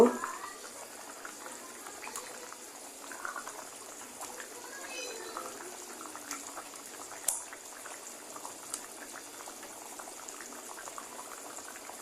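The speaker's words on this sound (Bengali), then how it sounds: "এখন আমি ভাজা মাছগুলো দিয়ে দিব" Curry bubbling at a steady boil in a pot on a rooftop as fried fish pieces go in, with a soft continuous simmer and a few faint clinks.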